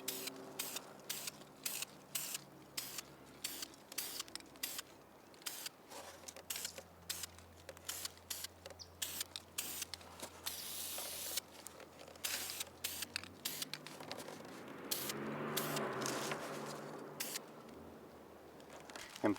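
Repeated short bursts of an aerosol spray can hissing as a duck decoy is painted darker, the bursts coming in quick, uneven pulses with brief pauses, close and moderately loud, with one longer hiss near the end.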